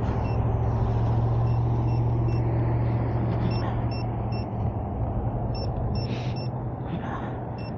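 Busy road traffic roars steadily, a dense continuous wash of passing vehicles with a low engine drone and a few faint high beeps.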